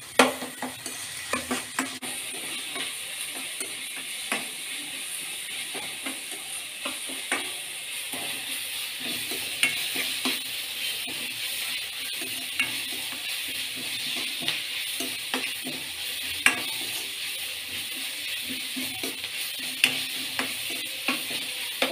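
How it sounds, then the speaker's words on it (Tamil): Tomatoes sauté in a pan for a paneer curry, with continuous light sizzling and frequent small scrapes and taps of stirring throughout, and no speech. "தக்காளி போட்டு நல்லா வதக்கிட்டுருக்கேன்"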